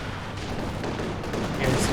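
Gunfire in a Company of Heroes 2 battle, a dense continuous rattle of shots and distant booms that swells slightly louder near the end.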